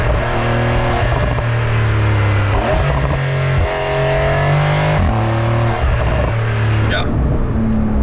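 Porsche 911 (992) Carrera S engine accelerating on a racetrack, loud rising revs climbing through several gear changes in a repeating rhythm, with a voice talking over it.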